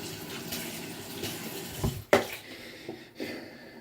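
Water is poured into a chemistry lab container to rinse it out, with a steady splashing flow and a couple of sharp clunks of the container as it is handled.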